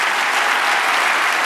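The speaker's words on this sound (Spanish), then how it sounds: "dale otro aplauso al Señor" Church congregation applauding during a Spanish-language sermon, a dense, loud, continuous wash of clapping with no breaks.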